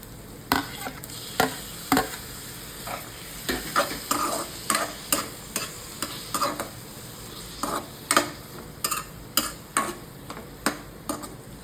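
Chopped tomato goes into onions already fried red in a pan, and a spoon scrapes and stirs in sharp, rhythmic strokes about once a second over a low, continuous sizzle.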